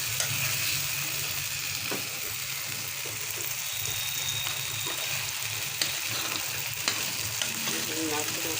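A tomato and egg mixture stirred as it fries in a pan, an even, close sizzle with light scraping strokes and occasional clinks, no talk over it.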